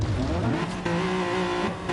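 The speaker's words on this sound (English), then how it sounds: "He's fully revving that car out of there." Race car engines from a GT1 racing video game rev hard, with rising and falling pitch and a touch of tire squeal, loud and continuous without any voices.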